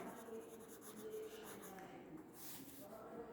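A pen scratches across paper close up, steady soft scribbling strokes of numbers being written by hand, continuing without pause over a faint background hiss.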